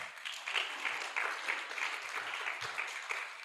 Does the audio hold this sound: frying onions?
no